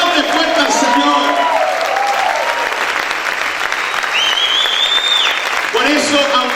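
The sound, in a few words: congregation applauding loudly in church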